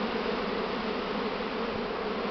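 Honeybees from a spring swarm hum steadily and densely close by, a continuous buzzing drone that holds even for the whole stretch with no voices.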